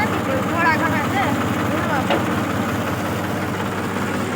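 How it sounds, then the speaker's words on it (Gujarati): A tractor engine runs at a farm field with a steady, low idling throb. Brief high chirps rise above it early on. "ટ્રેક્ટર હાલે છે."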